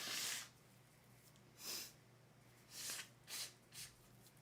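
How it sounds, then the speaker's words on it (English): A person blows their nose in several short, breathy bursts: one long blast, then a pause, then a few quicker honks close to the mic, with faint background hiss between them. "Blow my nose one more time."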